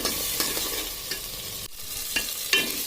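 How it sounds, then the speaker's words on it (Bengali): Spice masala of garlic and green chilli paste being stirred and fried in a pan, a steady close sizzle broken by repeated scraping strokes of the spoon, no voices. "এবার এই মশলাটাকে ভালো করে কষিয়ে নেব।"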